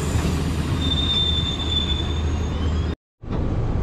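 Garib Rath train pulling out of Dumraon railway station, with a steady loud rumble of wheels on rails and a long thin squeal of wheels, heard from on board, continuous apart from a brief cut near the end.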